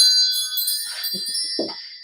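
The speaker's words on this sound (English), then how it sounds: "Let's call on Spirit with a little bit of wind chime time." Wind chimes ring with bright, sustained metallic tones that overlap and slowly fade, with a few softer tinkling strikes toward the end, heard on their own.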